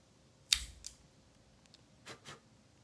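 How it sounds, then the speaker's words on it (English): A Cassetti multi-cutter makes a V-cut in a cigar with one crisp, quiet snip, followed by a softer click and then two faint clicks, close up in a quiet room. "let's give it a cut. I'm using my Cassetti multi-cutter. I'm going to use the V-cut."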